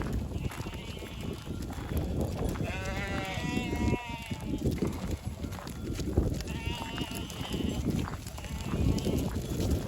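Several sheep bleat in wavering calls, close and distinct, over a busy barn background of shuffling and rustling.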